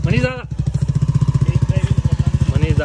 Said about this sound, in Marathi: ऋषिकेश दादा लच्छी यांची न्यू बाईक इथे टेस्ट ड्राईव्ह घेत आहे